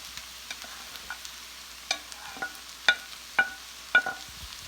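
Noodles being added to a pan of stir-fried egg and vegetables, a low sizzle under a few sharp clinks and scrapes of a utensil that grow louder toward the end.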